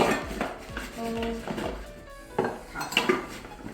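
A metal camping stove and bowl clink and clatter against each other while a hiking backpack is packed, giving several close rattles and knocks with short ringing tones and no talk.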